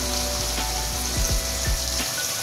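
A paste of onion, ginger, garlic and green chili hits hot oil in a pan, crackling and sizzling loudly and steadily, with a few sharper spits, before the frying briefly cuts off.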